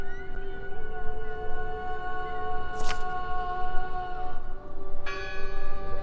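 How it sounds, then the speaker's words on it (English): Church bells in the video game Draugen toll with long sustained ringing tones layered over a steady low ambient rumble, with a second strike swelling in near the end. "Listen, the bell."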